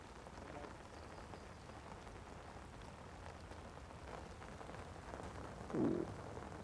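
Steady rain falls on water beside an angler fishing with a whip pole, a soft, even patter that continues throughout at low volume, with one brief louder bump near the end.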